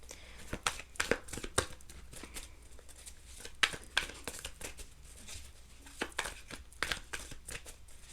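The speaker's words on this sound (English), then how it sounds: "I'm having a hard time shuffling." Tarot cards being shuffled with some difficulty, a fairly faint run of irregular papery flicks, riffles and crinkly slaps spread across the whole stretch, with no voice heard.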